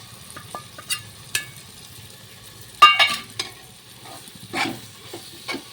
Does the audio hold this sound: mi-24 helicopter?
no